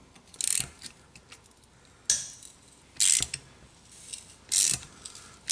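Four short ratcheting bursts from a 12 mm ratchet wrench turning a stud that spins in the cylinder head of a Kawasaki KLX110, each a quick close clicking run separated by pauses.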